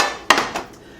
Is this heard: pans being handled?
yes